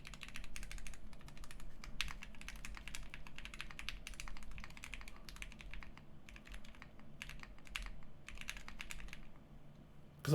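Fast, close typing on a Polaris mechanical keyboard with silent switches, rendered as dampened keystrokes in dense runs and brief gaps, with a low background hum and no talk.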